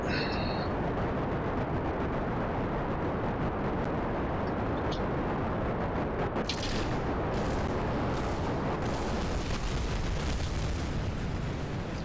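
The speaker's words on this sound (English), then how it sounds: "Another explosion." A rocket explodes on the launch pad in Kerbal Space Program. A loud roaring blast builds and rumbles on with bursts of crackle, then a sharp new burst flares near the end.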